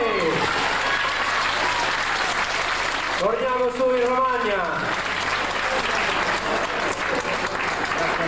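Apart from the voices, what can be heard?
audience applause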